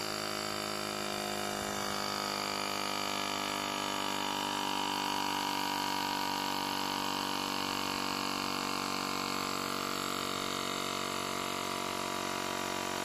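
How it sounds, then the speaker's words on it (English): Xiaomi Mijia Air Pump 2, a compact electric compressor, inflating a bike tyre, giving a steady, even motor hum with constant hiss that runs unbroken and fairly quiet throughout, with no talking. "Let's pump the back tire."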